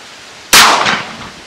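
A single .45 Colt gunshot with a 225-grain Hornady FTX bullet fired into water: one sharp, loud crack at close range, then a decaying rumble and ringing that fades over about a second, with no talk.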